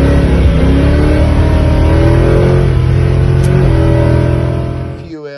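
A 650+ hp 408ci Cleveland V8 in a Ford Falcon XE S-Pak revs hard and close, a loud, rough, throbbing engine roar that holds steady before dropping away near the end.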